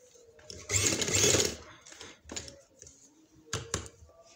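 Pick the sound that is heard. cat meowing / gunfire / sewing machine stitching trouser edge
sewing machine stitching trouser edge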